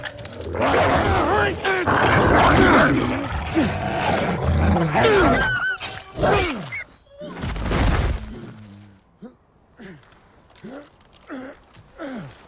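Wolves attack in a wartime first-person shooter, loud snarling and roaring bursts packed close for several seconds, then thinner, spaced growls and yelps as the struggle fades.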